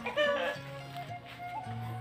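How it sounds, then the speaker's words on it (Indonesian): Chickens clucking in a quiet remote village with red soil and houses on stilts, a few short clucks and calls close by over soft background ambience. "Suara ayam, suara burung teman-teman"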